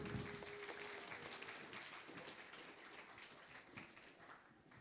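Conference audience applause, a dense, steady patter of many hands clapping at some distance, fairly faint and gradually thinning out over several seconds.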